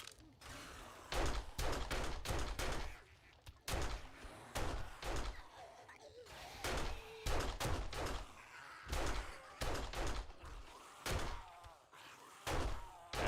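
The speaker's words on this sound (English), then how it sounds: "Maybe just use a shotgun blast." Repeated heavy shotgun blasts from the zombie survival game 7 Days to Die, loud and close, firing in irregular bursts across the whole stretch with brief gaps between shots.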